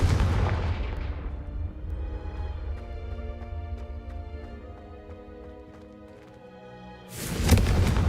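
Confringo explosive spells go off in Hogwarts Legacy, with a loud booming burst at the start, a ringing, shimmering magical tail, and a second sharp blast near the end.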